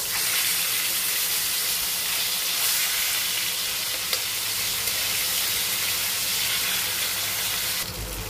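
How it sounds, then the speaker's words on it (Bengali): Rohu fish pieces fry in hot oil after being flipped, giving a steady, bright sizzle and hiss that carries evenly from start to end with no talk. "মাছগুলো এক পিঠ ভাজা হয়ে গেছে, উল্টে দিচ্ছি মাছগুলো।"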